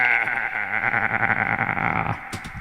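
A human voice imitates an aggressive goat bleat, played back on a warbling cassette tape loop: a loud, sustained, nasal wavering bleat followed by a few short clicks.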